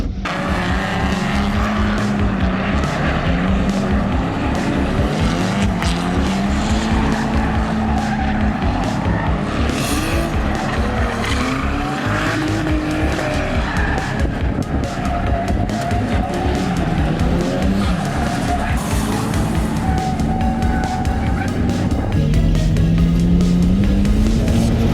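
Turbo VS Commodore drifting in tandem with another car, its engine revving hard and wavering while the tyres squeal continuously, loud and close from an onboard position.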